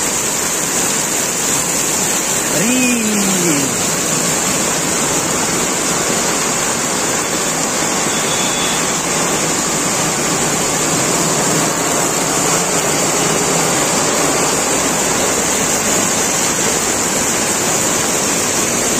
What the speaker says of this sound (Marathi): मित्रांनो अक्षरशः पावसाने खूप झोडवलंय